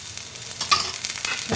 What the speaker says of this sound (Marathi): दुसरं पण असं थालीपीठ मी घातलं तेल पसरून घ्यायचं